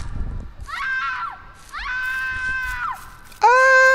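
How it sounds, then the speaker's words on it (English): Scream effect from a horror video game, a series of shrill, drawn-out screams in short bursts, loud and close, ending in an even louder, sustained shriek. "I think that's like the scary maze game scream"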